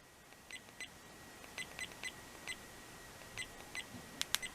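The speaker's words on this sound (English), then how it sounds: "Maybe that's the volume for the beeping noises that we're hearing." Small electronic beeps from an SJCAM C200 action camera chirp in an irregular series, close and fairly quiet, followed by a couple of sharper clicks near the end.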